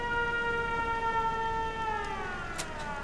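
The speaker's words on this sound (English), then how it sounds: "Turn the siren back off, the door opens right back up." A settlement siren in Fallout 4 wails in a steady, loud electronic tone that slowly slides downward near the end, sounding alone with no voices.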